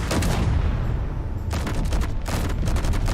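Turrets firing in Space Engineers: dense, continuous, booming automatic fire that stays loud and close throughout, with a few heavier pulses layered over a low rumble.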